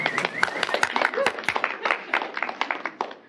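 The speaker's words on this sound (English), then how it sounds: "so thank you for the applause" An indoor audience claps together in a new event space, with a steady patter of many hands that stays moderately loud for a few seconds without a clear peak.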